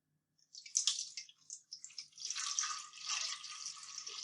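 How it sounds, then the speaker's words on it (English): Water pours into a classroom convection demonstration model, starting with splashy bursts and settling into a steady, bright trickling rush that runs for several seconds, close and with no talking. "now I have standard water that I'm going to pour into our model."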